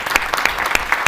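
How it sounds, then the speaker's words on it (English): A live audience applauds panelists at a parenting and shalom bayit panel, a short burst of close, crisp clapping from a modest crowd. "let's give a huge round of applause for all the panelists"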